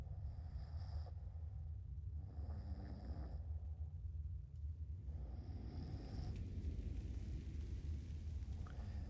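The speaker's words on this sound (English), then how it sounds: "I love the snoring." Slow, steady snoring from a character in the game Fallout 76, a low rumbling breath that swells and fades in a regular cycle every second or so, close and continuous with no talking.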